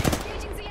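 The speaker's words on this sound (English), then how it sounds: "Someone else is shooting at them." Rapid gunfire from a battle royale video game on the King's Canyon map, a brief loud burst of shots close up in a short fragment.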